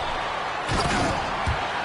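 A basketball slam dunk in NBA 2K25 by Davis, heard as a pair of short thuds and slaps over crowd ambience, with a soft thump near the end.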